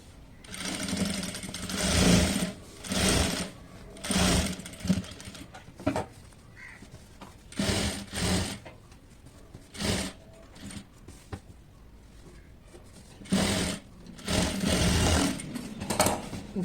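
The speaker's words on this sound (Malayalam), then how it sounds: "ഇനി ഇത് നമുക്കവിടെ ഇങ്ങനെ പതിച്ചടിക്കാം." A sewing machine stitches a puff sleeve frock in repeated bursts of rapid mechanical whirring, close and loud, separated by short pauses.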